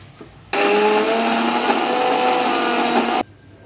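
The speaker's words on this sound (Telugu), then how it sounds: "వీటిని ఇప్పుడు మిక్సీలో వేసుకొని ఈ పప్పు మొత్తాన్ని గ్రైండ్ చేసుకోండి మెత్తగా." Mixer grinder pureeing cooked lentils into a smooth paste for purnam burelu filling: a loud, steady motor whine that starts abruptly, holds for nearly three seconds, then cuts off.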